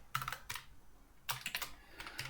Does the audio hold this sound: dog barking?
no